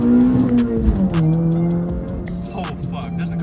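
A dyno-tuned 10th-gen Honda Civic with a naturally aspirated 2.0 K20C2 engine on E85 pulls hard uphill on a freeway, its steady engine drone loud and close inside the cabin, pitch shifting as it accelerates.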